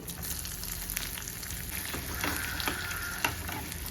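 Coconut pieces and small onions frying in hot oil for a Kerala sweet dish, a continuous close sizzle with occasional stirring scrapes and a faint tap of the spoon on the pan.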